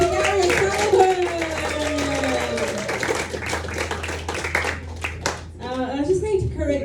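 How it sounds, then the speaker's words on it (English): Comedy club audience claps for comedian Gary O'Sullivan at the end of his set, steady clapping running underneath a voice talking at the start and a second speaker coming in near the end. "One big last round of applause, please, for Gary O'Sullivan."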